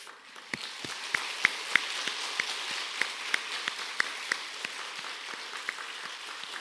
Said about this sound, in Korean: 다시 한번 큰 박수로 축하해 주시면 감사하겠습니다.